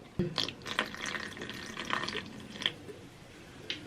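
Liquid poured into a bentonite clay mix, giving small irregular drips and splashes with soft fizzing, close and fairly quiet, with no talk over it.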